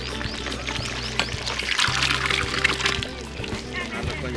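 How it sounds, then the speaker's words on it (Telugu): A little water goes into a pot of mutton curry: a steady, close trickling pour runs for a few seconds over a low background hum. "అలా కొంచెం నీళ్ళు వేసి"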